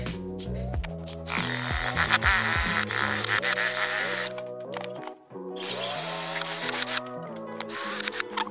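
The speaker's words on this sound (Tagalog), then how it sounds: "gamit tayo ng hand drill pantanggal dito, or kahit na anong drill pwede" A hand drill whirs loudly and steadily as it removes a cover, its pitch rising and falling with short pauses and restarts, including a brief stop near the middle.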